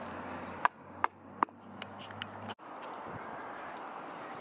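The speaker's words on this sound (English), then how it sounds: "we're just going to get a really large screwdriver and a hammer, put it down as far as we can" A hammer drives a large screwdriver into the ground, three sharp metallic strikes in quick succession followed by a few lighter taps, close by against low outdoor background noise.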